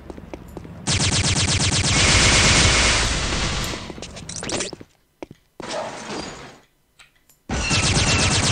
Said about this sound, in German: Die prallen ab, die Schüsse von dem.